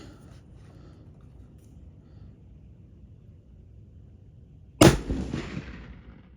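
A rifle fires a single sharp, loud gunshot over a Garmin chronograph after several seconds of quiet outdoor background, the blast followed by a brief rumbling decay.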